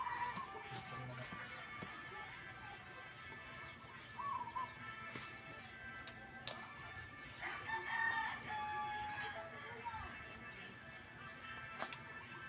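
On Bantayan island in the Philippines, a rooster crows faintly in the distance over a quiet outdoor background, with a few soft bird and fowl calls around it.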